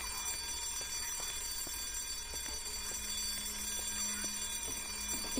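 Steady alarm in Silent Hill: Downpour, with a continuous bright, bell-like ring held at an even level throughout, under faint ambient noise and no talking.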